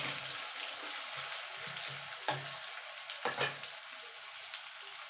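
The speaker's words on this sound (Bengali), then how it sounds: "পেঁয়াজটাকে একটুখানি ভাজা ভাজা করে নেব" Onions fry with garlic in a pan, giving a steady close sizzle with a few louder clatters of stirring, and no talking.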